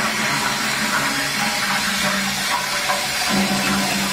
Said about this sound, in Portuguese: Na hora que você der a descarga